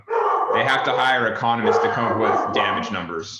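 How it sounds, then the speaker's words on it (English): A pet dog barks and yips excitedly in the background, steady and fairly loud, under continuous close talk from a man. "Sorry if you can hear my dog in the background."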